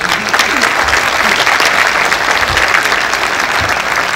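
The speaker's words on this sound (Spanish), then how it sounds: "Vamos con un caluroso aplauso" Warm applause from the audience at an engineering diploma and professional registration ceremony in Lima, a steady, dense clapping that holds at full strength throughout with no pauses.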